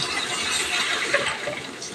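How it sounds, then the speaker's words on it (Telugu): Water pours steadily into a cooking pot as rice is set to boil, a continuous splashing flow lasting a couple of seconds with no talking over it. "రెండు గిన్నెలు వాటర్ అయితే వేసుకోవాలండి"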